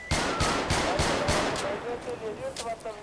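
Rapid gunfire in GTA 5 during a bank robbery hostage rescue, a quick string of sharp shots over the first second and a half, then fading into background hum and a faint voice.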